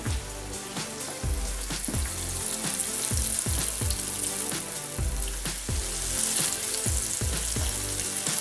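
Salisbury steak patties and onion fry steadily in a greasy pan, a continuous loud sizzle with crackling pops and spattering throughout, no voices.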